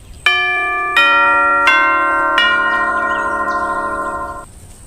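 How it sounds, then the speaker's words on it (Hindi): A doorbell chime rings out in several clear, bell-like strikes, each tone layered over the last and lingering before fading away near the end. "घर की घंटी बजती है"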